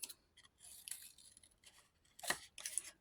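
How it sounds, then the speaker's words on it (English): Scissors snip the edges off a paper craft piece with flower designs, a few crisp cutting strokes and short rasping slices, close and fairly quiet with no talk. "Let's just cut these edges off a bit."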